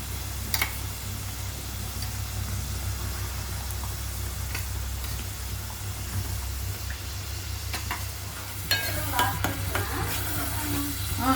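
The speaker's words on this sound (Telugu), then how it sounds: "దీంతో పాటు అల్లం వెల్లుల్లి పేస్ట్ కూడా వేసేస్తున్నాం" Ginger garlic paste frying in a pan for a Krishna river fish curry, a steady close sizzle with stirring scrapes and clicks of a utensil throughout, growing busier near the end.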